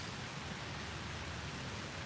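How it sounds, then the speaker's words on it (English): Steady rain falls in a dense, even hiss that fills the whole stretch without a break, fairly loud and close, with no voices over it. "It's raining."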